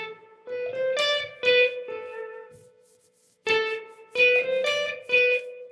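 The iconic flute opening riff of a song plays as a bright melodic line of short repeated phrases, with a pause between two passes, clear and alone.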